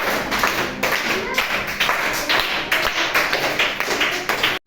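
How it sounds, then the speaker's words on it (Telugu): Sixth-grade students in a classroom clap together for two classmates, a loud, dense burst of applause with uneven rhythm that runs steadily before stopping abruptly at the end. "క్లాప్స్ ఇవ్వండి వీళ్ళిద్దరికి మరి"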